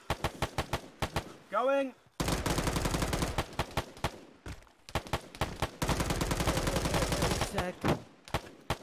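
Gunfire in a video game combat scene, with sharp single shots and long loud automatic bursts close by, broken by brief gaps, while players shout callouts over the shooting.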